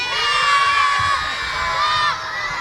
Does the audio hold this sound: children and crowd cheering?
yes